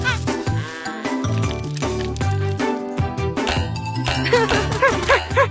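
Cartoon sheep bleating in a children's animated show, wavering bleats popping up repeatedly over a busy, bright music bed with light jingling tinkles, loud and continuous throughout.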